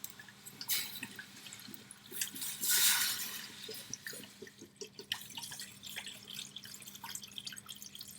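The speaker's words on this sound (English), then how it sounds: "let's put some water in, just enough to cover it" Water runs from a tap into a pot of turkey pieces for stock, a steady close splashing with dripping and trickling that swells briefly in the middle, heard without talking.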